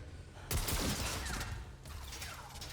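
Gunfire rings out in Marvel's Spider-Man Remastered, a burst of sharp shots starting abruptly, then rattling on with a second volley against a rumbling game backdrop, no speech.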